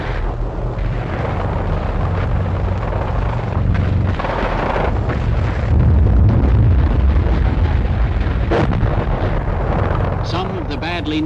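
Mortar blasts and machine-gun fire in a war film form a dense, loud wash of battle noise with bursts and rumbles, while voices are heard over it.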